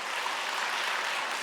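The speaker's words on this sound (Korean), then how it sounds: "박수 한번 쳐주세요" A church congregation applauding during a Sunday service, a steady, even wash of clapping that holds through the moment with no voices over it.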